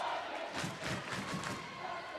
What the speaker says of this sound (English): Crowd already pretty loud coming out here into the beginning of this game.